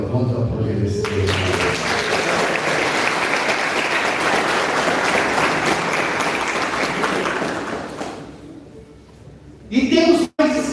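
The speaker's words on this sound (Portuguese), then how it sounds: "Vamos aplaudir esse Deus." A church congregation applauds in a dense, sustained burst of clapping that fades out after about eight seconds, followed by a voice speaking.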